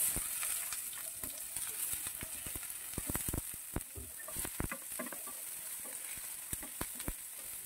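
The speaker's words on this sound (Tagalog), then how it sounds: "Gisa-gisahin lang natin ito hanggang sa medyo mag-brown na yung mga sibuyas at bawang natin." Chopped garlic and onions sauté in rendered pork fat for pork igado, giving a steady close sizzle broken by repeated sharp scraping clicks of stirring.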